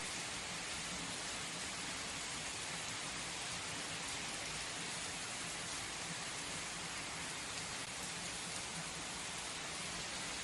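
Constant rain falls in a dense, even wash of patter, soft and low in level, unbroken throughout with no voices.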